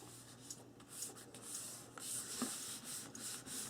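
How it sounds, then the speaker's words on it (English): Paper pages are burnished onto an album by hand, giving quiet, close rubbing strokes in short repeated sweeps, soft and dry with no talk. "Burnish those in, make sure they stick in good."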